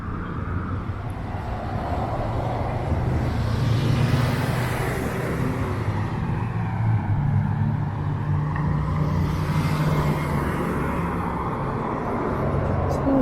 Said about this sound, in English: As you can see, there's lots of traffic around here.